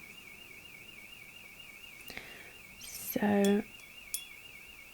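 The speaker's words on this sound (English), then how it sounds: "The alarm keeps going off." A builders' alarm at a nearby construction site sounds as a steady wavering electronic tone throughout, faint and distant, while a person briefly speaks.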